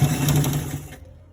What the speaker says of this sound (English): So we are stitching it all through to the end part or to the down part.